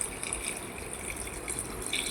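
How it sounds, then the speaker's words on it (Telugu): Water poured from a glass into a pan of simmering brinjal and potato curry, a steady close splashing pour lasting a couple of seconds with no talk. "మనకు గ్రేవీ కోసం 1 గ్లాస్ వాటర్ యాడ్ చేసుకోవాలి."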